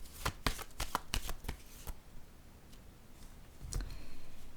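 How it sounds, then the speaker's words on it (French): A playing card drawn from a deck: a quick burst of sharp papery snaps and flicks up front, then a pause and a softer second flurry of card slides, close and fairly quiet. "je vais piger une autre carte"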